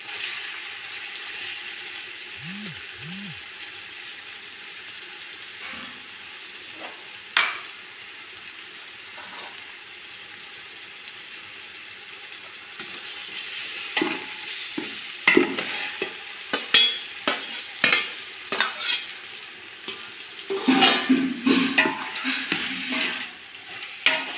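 Fried golden onion stirred in a pan with ginger-garlic masala paste while cooking a Kombadi vade dinner, giving soft sizzling under scattered scraping stir strokes that grow busier and louder toward the end.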